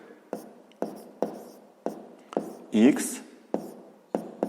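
Numbers of a sixth-grade math solution written by hand, with a series of short, sharp tapping strokes at a fairly even pace and a brief scratchy squeak midway, close and fairly quiet.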